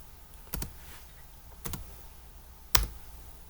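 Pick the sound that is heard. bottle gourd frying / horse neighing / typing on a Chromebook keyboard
typing on a Chromebook keyboard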